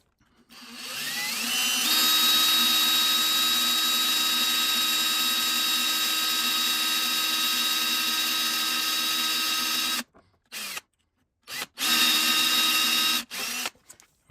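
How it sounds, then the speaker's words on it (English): A small drill bit bores into a stuck screw, the power drill whining loud and steady for about eight seconds, then stopping and restarting in short bursts with brief silences between. "I've just switched to a really small bit now. I'll see if I can get that drilled in at least"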